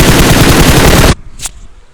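Video game gunfire rattles as a loud rapid burst of automatic shots for about a second, then cuts off, followed by a short faint ring.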